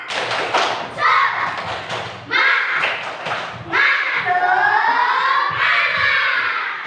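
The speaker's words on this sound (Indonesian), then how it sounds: "Tepuk semangat." A classroom of fourth-grade schoolchildren performing a rhythmic spirit clap, sharp patterned claps and thumps alternating with children chanting loudly in unison, close and energetic.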